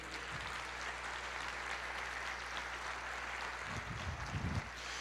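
Church congregation applauding during a sermon, a faint, dense and even wash of many hands clapping held at a distance throughout, with a brief low rumble near the end.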